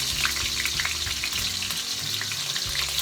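Red onion, green and yellow peppers and spring onion fry in a hot pan for a Jamaican brown stew, giving a loud, continuous sizzle with occasional stirring clatter.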